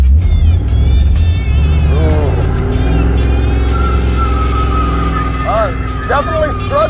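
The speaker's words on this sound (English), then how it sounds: "2-tire burnout?" Beater car held in a two-tire burnout, engine revving loud and close with rising and falling pitch and tire squeal, people talking and cheering over it.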